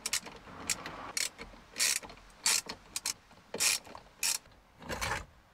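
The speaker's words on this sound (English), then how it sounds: "But now with all that out of the way, I've just got 6 bolts to remove." Six bolts being unscrewed from a Mazda MX-5 Miata steering wheel, heard as a series of short ratcheting and metallic clicking bursts in irregular rhythm, close and fairly quiet, with no talking.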